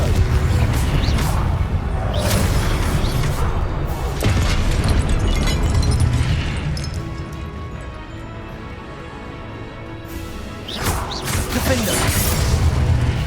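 Confringo spell blasts in the Hogwarts Legacy video game, loud booming explosions with crashing bursts and whooshes repeating across the stretch, dense and continuous with a brief lull before a final burst.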